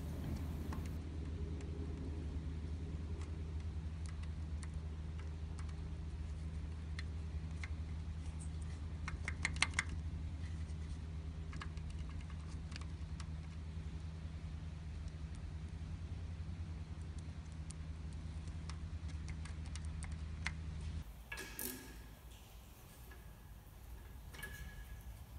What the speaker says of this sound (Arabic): كما تسمعون اخوتي هذه السلسله يعني فيها جو بزاف